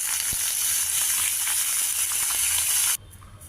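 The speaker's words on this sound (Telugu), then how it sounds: "కొద్దిగా టమాటా ముక్కలు చేసి లో ఫ్లేమ్లో కొద్దిగా మగ్గించుకోవాలి" Small tomato pieces sizzle and fry in a pan over a low flame, a steady dense hiss close by that suddenly drops away near the end.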